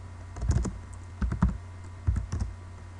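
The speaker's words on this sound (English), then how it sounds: "if I type in a long expression" Close, clattering keystrokes on a computer keyboard as a long expression is entered in MATLAB, typed in three short bursts separated by brief pauses.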